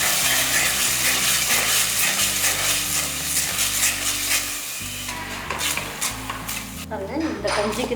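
Loud continuous sizzling as onions sauté in a pan, with a spoon stirring and scraping against the metal throughout.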